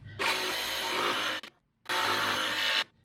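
Scrap wood is sawn along marked cut lines in two long hand-saw strokes, each about 1.3 seconds of rough, raspy cutting separated by a short pause, close and loud.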